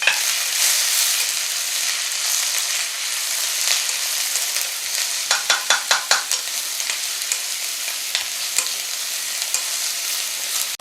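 Lobster stir-frying with chili and mixed vegetables in oil: a steady, bright sizzle runs throughout, with a burst of sharp stirring clatters near the middle and softer scrapes toward the end, no talking.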